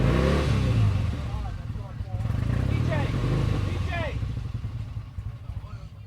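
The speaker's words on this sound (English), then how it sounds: "Damn noisy motorcycle." A 1968 Triumph Bonneville motorcycle engine revs loudly and close at an outdoor vintage motorcycle show, its roar rising and falling over crowd chatter and people talking nearby.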